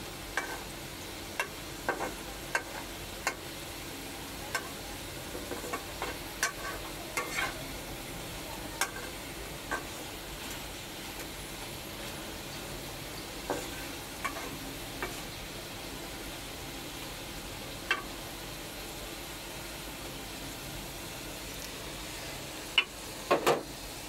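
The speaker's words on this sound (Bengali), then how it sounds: "এ পিঠ ও পিঠ করে সব আলুটাকে নাড়াচাড়া করে সুন্দর করে ভেজে নিতে হবে" Potatoes frying in a pan and being stirred and turned over, a steady low sizzle broken by sharp scraping clicks of the utensil at irregular intervals, close and moderately quiet.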